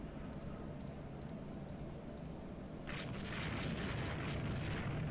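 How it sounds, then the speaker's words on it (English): Warships struck by torpedoes in the naval strategy game Rule the Waves 2 erupt in a continuous low explosive rumble that swells louder partway through, with small interface clicks ticking over it. "A couple of them are hit with a torpedo."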